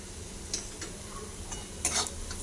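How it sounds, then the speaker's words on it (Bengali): Onion sautéed with salt and turmeric is stirred in a pan, giving a low sizzle with two sharp scraping strokes of a spoon. "পেঁয়াজের সাথে নুন হলুদ কষিয়ে নেব।"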